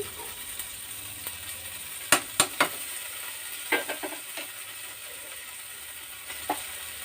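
Spice tempering for an eggplant dish sizzles quietly in a pan, broken by a few sharp clinks and scrapes of stirring, with no talking.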